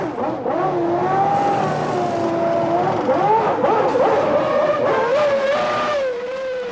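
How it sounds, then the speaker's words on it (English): A Formula 1 race car engine at the 1993 French Grand Prix screams at high revs, with the pitch rising and falling as it pulls away, loud and continuous. "He gets away cleanly, but Hill comes shooting up onto his tail as they round the first long right-hander."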